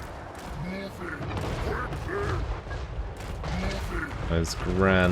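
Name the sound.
cannon fire in a video game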